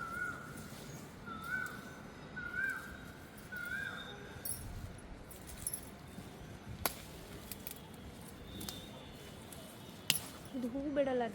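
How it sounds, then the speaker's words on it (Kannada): Peacocks call out in a home flower garden, a few short, ringing cries in the first seconds that carry from some distance over a steady outdoor background. "ಕೇಳಿಸ್ಕೋಬೋದು ನವಿಲುಗಳೆಲ್ಲ ಎಷ್ಟು ಚೆನ್ನಾಗಿ ಕೂಗ್ತಾ ಇದೆ ಅಂತೇಳಿ."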